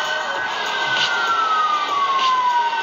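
A video game police siren wails steadily with a slowly falling pitch over a constant engine-like rumble, loud and continuous throughout.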